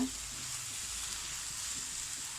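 Taro leaves (kochu shak) fry in a pan with a steady, bright hiss of sizzling oil, close and even throughout.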